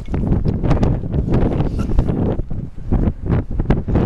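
Strong gusting wind buffets a mountain summit in the Atlas Mountains, roaring loudly and continuously across the microphone in uneven surges with no voices.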